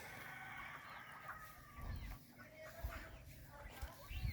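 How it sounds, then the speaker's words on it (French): Purebred chickens cluck softly in a farmyard, with faint scattered calls and low thumps under a murmuring voice. "on m'a dit que c'était des poulets de race"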